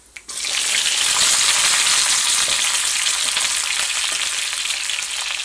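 Sambar vegetables hit hot oil seasoned with mustard seeds and fenugreek, setting off a loud, steady sizzle that starts suddenly and holds evenly close to the pan, with no talking.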